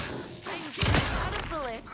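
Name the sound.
gunfire from the video game Alan Wake 2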